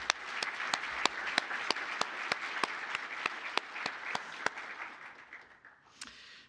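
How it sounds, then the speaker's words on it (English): An audience claps in a round of applause at an undergraduate research showcase: steady, fairly quiet clapping with a few sharp individual claps standing out, fading toward the end. "so let's give them a round of applause."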